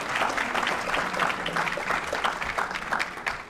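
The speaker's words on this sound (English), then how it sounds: "go ahead, give them a round of applause." Audience applause for student performers at a school district Black History event, a steady wash of many hands clapping at moderate volume throughout.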